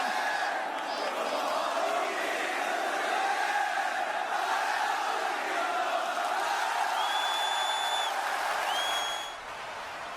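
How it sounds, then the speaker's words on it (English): A wrestling arena crowd sings a wrestler's entrance theme in unison, a loud, sustained roar of massed voices with a few higher shouts near the end. "Listen to this crowd singing Cody's theme song."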